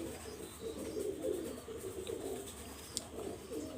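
Small tail-feathered pigeons coo low and steadily throughout, several birds overlapping in a continuous, close rumbling murmur with no voices.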